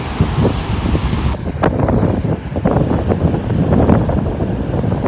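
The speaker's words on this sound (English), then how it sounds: "crazy waves." Rough ocean waves off Tenerife crash and rumble in a heavy, noisy wash, with strong wind buffeting the microphone.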